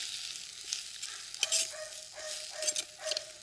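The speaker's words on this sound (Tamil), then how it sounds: "தக்காளியெல்லாம் ஓரளவுக்கு வதங்க ஆரம்பித்தாச்சு." Tomatoes sautéing in a pan for a dried fish curry give a steady, soft sizzle, broken by a few louder stirring scrapes as the spoon moves them around.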